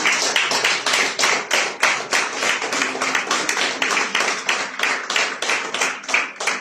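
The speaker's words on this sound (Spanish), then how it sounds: "¿Por qué no le da un fuerte aplauso al Señor?" A church congregation claps in a strong, rhythmic unison beat, loud and close, with a few voices faintly beneath the steady pulse.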